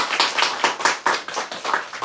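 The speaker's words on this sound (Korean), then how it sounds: "뜨거운 박수 부탁드립니다." Rhythmic clapping from an audience after a lecture on history and leadership, with sharp, evenly spaced claps in quick succession, close and fairly loud, with no talking.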